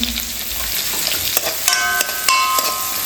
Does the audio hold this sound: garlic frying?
yes